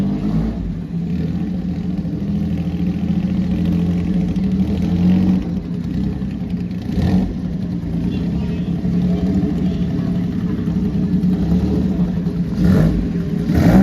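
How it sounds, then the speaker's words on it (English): A 1959 Ferrari Dino 196S with Fantuzzi bodywork drives up at a concours parade, its engine a steady mid-range rumble with brief revving swells, close and continuous under background crowd noise. "This is the 1959 Ferrari Dino 196S by Fantuzzi"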